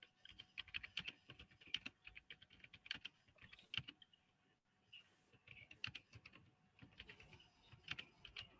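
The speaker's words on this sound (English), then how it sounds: "Somebody is typing," Someone types on a computer keyboard in quick, irregular bursts of clicky keystrokes, faint and slightly distant as if picked up through an open microphone, with a short pause midway.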